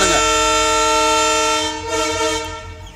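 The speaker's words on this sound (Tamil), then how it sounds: "ட்ரெயின் போகுது." A train passes close by with a loud, sustained horn blast that holds for about two seconds, then wavers and fades as the train rumbles on.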